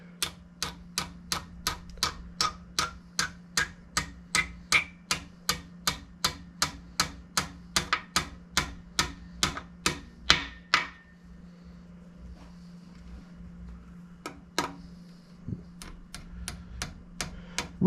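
Pins are gently tapped into the aluminum-and-rubber rear main seal of a Ford Y-block engine in a long, steady series of sharp, close hammer taps, about two per second. After a brief pause, a few more taps follow.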